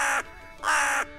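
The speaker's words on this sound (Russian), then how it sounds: "Это голос вороны." Two loud, harsh caws from a crow, each lasting close to half a second and separated by a short pause, heard up close with nothing else around them.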